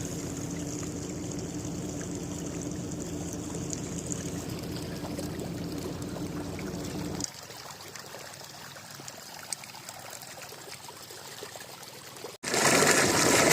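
Water rushes and gurgles steadily into a rice field for several seconds, then drops to a quieter trickle before a sudden louder burst at the end.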